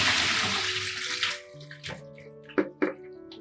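Water draining and splashing off freshly rinsed potatoes, a broad rushing pour that thins into a few separate splashes and drips, close by with nobody talking.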